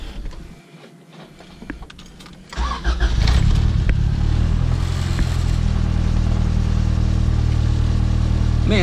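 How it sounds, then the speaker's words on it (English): A car engine cranks briefly and then catches, settling into a steady loud idle close by after a newly installed transmission and charge pipe were refitted, no voices over it. "Man, these start up so easy."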